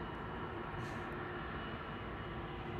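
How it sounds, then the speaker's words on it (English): A Pakistan International Boeing 777-200ER departing Manchester Airport at night gives a steady, distant jet rumble, faint and unbroken, with no voices over it. "PK702 departing back to Islamabad now for Pakistan International. This is AP BHX. A 777-200 ER."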